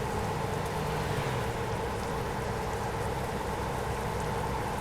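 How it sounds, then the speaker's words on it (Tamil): Rain falls steadily in Euro Truck Simulator 2, a dense, even hiss of downpour that holds at constant loudness throughout, with no voices over it. "மழை வருது, மழை பேஞ்சிட்ருக்கு."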